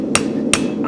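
Three sharp, evenly spaced hammer blows on hot steel, ringing close and loud, as the heel of a spavin horseshoe is forged at the anvil.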